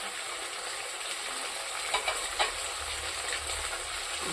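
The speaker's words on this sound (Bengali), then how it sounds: "মাছটা ভাজা হয়ে গেছে" Tilapia fish frying in oil in a pan, a steady, close sizzle and crackle with a couple of brief louder spatters or stirring knocks midway, and no voices.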